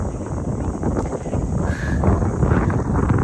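Wind gusts at night beside the Sydney Opera House, a steady loud rumbling roar buffeting the microphone throughout with no clear pauses.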